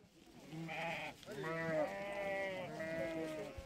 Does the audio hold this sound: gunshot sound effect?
no